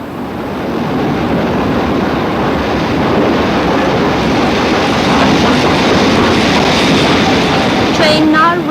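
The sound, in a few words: train arriving at a station platform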